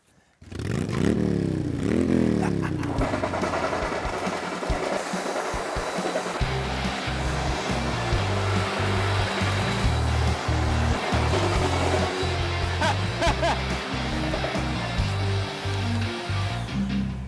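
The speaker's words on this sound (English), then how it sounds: "Man, Wes, this is an awesome piece of machinery." A dust-free tile removal machine runs with its vacuum in a school in Tyler, TX, a loud steady whine and scraping rumble starting up and continuing throughout with clattering pulses.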